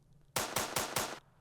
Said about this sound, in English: the gun shooting.